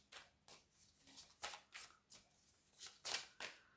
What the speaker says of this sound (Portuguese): Vou baralhar os arcanos menores